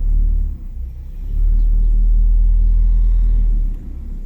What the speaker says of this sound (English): So now let's go on a test drive on this beater.